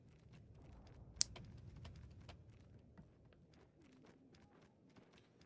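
Computer keyboard keys tapped in soft, irregular clicks, with one sharper click early on, quiet and close amid faint background game sound, nobody speaking.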